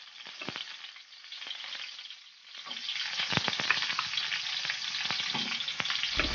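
Tomatoes sautéing in a pan for bangus sinigang, a close, even sizzle that swells after a brief lull, with occasional scraping ticks.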